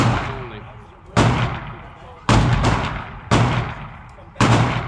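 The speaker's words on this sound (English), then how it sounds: "Finished shooting the first three mags." Rifle shots at a busy outdoor shooting range, four sharp loud reports spaced about a second apart, each with a decaying echo tail, close to the microphone.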